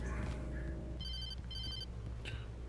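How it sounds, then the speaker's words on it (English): A telephone rings in the Alan Wake video game, two short bright electronic trills in quick succession over a low ambient game soundscape. "phone."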